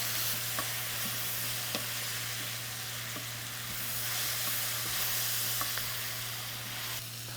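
Spices being stirred into a sizzling vegetable mixture for an Egyptian edamame stew, with a steady loud frying hiss and occasional light scrapes of a utensil in the pan. No voices.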